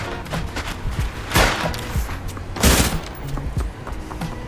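Rapid submachine gun bursts in the World Boss video game arena, two louder volleys standing out over a dense, continuous backdrop of game noise and thuds.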